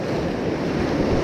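Gentle Mediterranean sea waves at a shoreline fishing spot, a steady loud wash of surf and water close by, continuous, with no talking.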